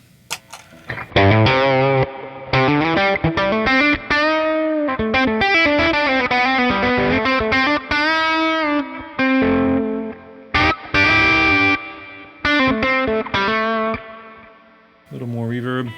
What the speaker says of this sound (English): let's just demo that with a little bit of distortion on channel 2,